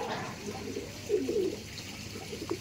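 Low, soft cooing of Giribaj pigeons in a few throaty phrases, close by, over a faint background murmur.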